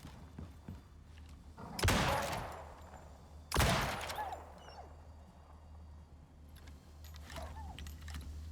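Gunfire in the video game Icarus: two sharp, loud bursts a couple of seconds apart, followed by fainter scattered pops and clatter over a low background hum.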